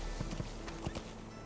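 A horse's hooves clip-clop in a few quick, moderately close steps in Metal Gear Solid V: The Phantom Pain, over a steady low game hum.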